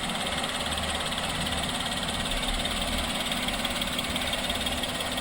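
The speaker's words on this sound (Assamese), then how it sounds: "ইঞ্জিন দেখা পাইছে, ষ্টাৰ্ট হৈ আছে গাড়ী, চাউণ্ডটো শুনিছে ইঞ্জিনৰ" A Maruti WagonR VXI car engine idling, a steady close rumbling hum with an even mechanical drone and no change in pace, heard on its own without talk.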